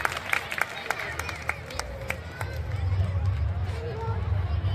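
A small group claps for a child named Riddhi in a children's party game, a quick run of crisp hand claps followed by a steadier patter and background chatter as an adult speaks over it.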